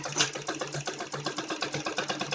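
A sewing machine stitches net fabric for a Patiala salwar. Up close, it gives a steady, fast, rhythmic mechanical clatter that runs without a break.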